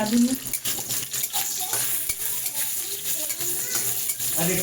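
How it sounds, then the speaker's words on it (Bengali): Cashews and raisins frying in ghee in a wok give a steady, close hissing sizzle with a watery texture. Faint voices sit briefly underneath. "প্রথমেই কড়াইয়ের মধ্যে একটু ঘি দিয়ে দেওয়া হলো, কারণ এই ঘিটার মধ্যে কাজু আর কিশমিশটা ভাজা হবে।"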